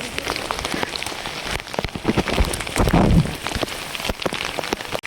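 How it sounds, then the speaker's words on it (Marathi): Heavy rain pours steadily on a Sahyadri trek route at Raigad fort, a dense close wash of drops with sharper patters and splashes throughout, no voices. "पाऊस आलाय खूप जोरात."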